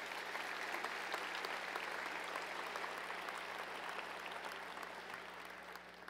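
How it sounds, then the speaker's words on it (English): A large audience at a fall new student convocation at OSU gives President Hargis a round of applause, a dense, even wash of clapping heard from a distance that slowly fades toward the end. "can we get a big round of applause for President Hargis here?"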